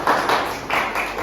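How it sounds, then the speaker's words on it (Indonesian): Brief applause in a school classroom for a student group, a quick burst of students clapping with soft rhythmic taps. "tepuk tangan dong buat kelompok 2"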